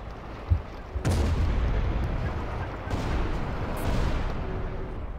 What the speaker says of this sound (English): throwing a grenade under his tank, of course, which is failing